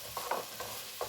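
Vegetables sautéing in a thin layer of hot grease for a smoky pumpkin soup, a soft steady sizzle with a few brief scraping stirs.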